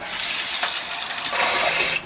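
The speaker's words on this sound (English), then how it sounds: "Turn off the water." Water gushes from a tap into a container, a loud, close, continuous hissing splash that cuts off abruptly near the end, with no speech.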